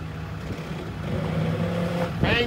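Dodge Ram 4500 truck hooked to a park model at a campground, its engine running as a steady low rumble throughout, with a brief sharper mechanical burst near the end.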